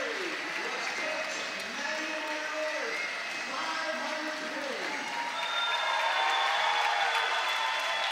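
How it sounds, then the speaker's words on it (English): Sustained applause and cheering from a gym crowd at a girls high school basketball game, a standing ovation for the coach's 500th career win, with a voice talking over the clapping and a whistle-like tone near the end. "everybody in this crowd is giving her a standing ovation"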